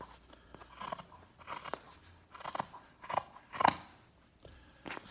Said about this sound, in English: And then I'm going to cut around the other side.